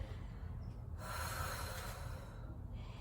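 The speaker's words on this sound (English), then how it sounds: "One more deep breath here." Deep breath during a triceps stretch, a single long, close inhale and exhale through the nose lasting a couple of seconds, with no talking.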